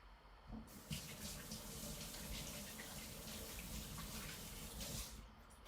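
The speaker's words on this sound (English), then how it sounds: "But I will rinse my hands." Hands are rinsed under a running kitchen tap, making a continuous close rush of water with splashing as the hands move, steady from start to finish.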